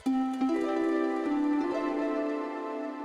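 A compressed software harp from a free plugin plays a few plucked notes that ring and sustain evenly, moderately quiet and alone without speech.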